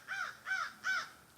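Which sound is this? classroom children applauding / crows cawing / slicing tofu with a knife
crows cawing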